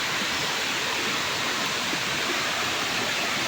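Muddy stream water flowing, a dense continuous rushing wash, steady and close throughout, with no voices.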